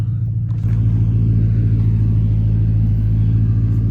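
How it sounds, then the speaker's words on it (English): A car with fresh paint and fender flares rolls slowly along a road on a cold day, giving a steady, close, low engine rumble with no talking. "I'm gonna just drive like maybe 100 yards down the road where it's a little bit more smooth"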